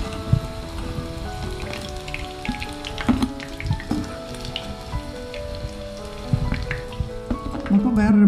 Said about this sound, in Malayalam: നമ്മളെല്ലാം ഈ എണ്ണയ്ക്കകത്ത് ഇട്ടിട്ടുണ്ട്. ഇതിനെ തിരിച്ചും മറിച്ചും എടുത്ത് ഒന്ന് പിന്നെ ഒന്ന് വറുത്തെടുക്കാം